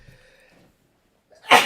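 A single loud, broadband sneeze bursts out at the end, after a quiet stretch broken by a faint tonal hum.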